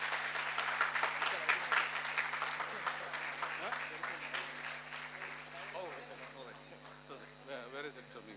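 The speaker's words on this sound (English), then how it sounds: "So big round of applause, please." Audience applause at a Bharatanatyam arangetram dance recital, with a crowd clapping steadily at moderate distance, strongest at first and then slowly tapering off over a constant low hum.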